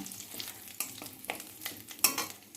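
Black cumin seeds and dry red chillies fry in hot oil with a steady crackling sizzle, punctuated by several sharp stirring scrapes in the pan, close and fairly loud with no talking.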